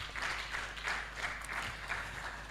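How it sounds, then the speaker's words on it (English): Audience at an education census dissemination session gives a big hand clap, steady applause heard faint and distant with a low hum underneath. "Let's give a big hand clap to that."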